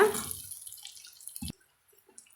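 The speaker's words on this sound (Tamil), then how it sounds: "நல்லா வடிகட்டி இந்த மாதிரி கரைச்சி எடுத்துக்கலாங்க" Dissolved tamarind water is poured through a strainer for a tamarind curry, a brief close trickle and splash that fades, then one small drip before quiet.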